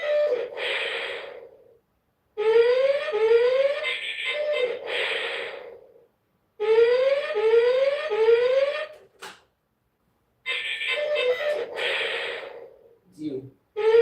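Electronic toy siren from a Toymax Projection Image Arcadia II Electronic Skeet Shoot game bursts with rising, sweeping tones, repeated in several loud segments separated by short pauses, close up.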